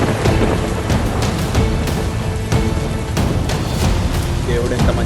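Steady heavy rain pours down with occasional low rumbles, a dense continuous wash of sound while a voice speaks over it.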